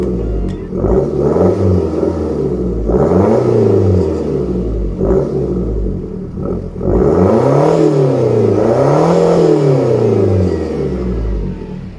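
Modified Ford Fiesta Zetec S diesel revving through a back box delete with twin 3-inch staggered tips, loud and close, several rising and falling revs in two main bursts with a steady rumble between.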